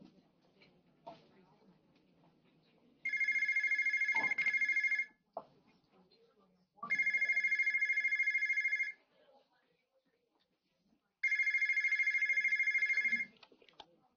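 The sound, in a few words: telephone ringing with an incoming call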